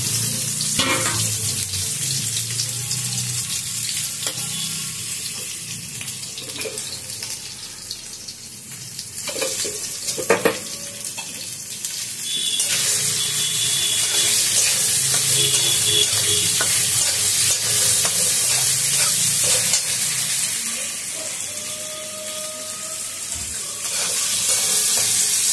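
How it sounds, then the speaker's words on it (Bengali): Potatoes fry in a small amount of fish oil, giving a steady close sizzle with stirring and scraping throughout and a few louder clatters of the spoon, without speech. "আলুটা একটু লাল লাল করে ভেজে নেব"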